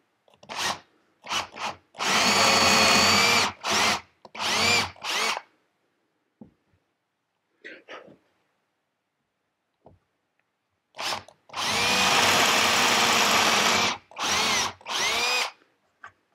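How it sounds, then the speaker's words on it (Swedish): A power drill boring a vertical hole whirs in sustained loud bursts, starting and stopping repeatedly, with quiet pauses and small handling clicks between runs. "Och så sätter jag en tejp där jag vet att så här djupt ska jag borra."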